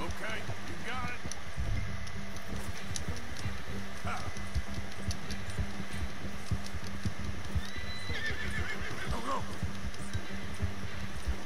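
A horse whinnies and snorts amid busy background sound in the video game Red Dead Redemption 2, with hooves and other effects mixed in at a steady, loud level.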